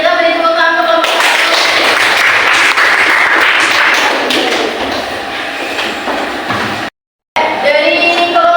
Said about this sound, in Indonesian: Kita beri tepuk tangan untuk kelompok satu.